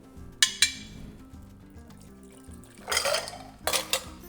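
Ice clinks and rattles against a glass as gin is stirred, with sharp chinks early on and louder bursts of clattering later, all close and without speech.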